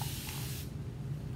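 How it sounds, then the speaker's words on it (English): Quick burst of fine mist from a Magic Spray Bottle, a close, loud hiss lasting about half a second before cutting off, leaving a low background hum. "I think I saw it at the quilt store and it's called Magic Spray Bottle."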